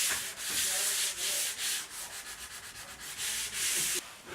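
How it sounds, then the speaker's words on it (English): Rhythmic sanding strokes rasp across an oiled wooden door, a series of short scratchy passes close up, quickening in the middle before longer strokes. "it's time to sand down any irregularities"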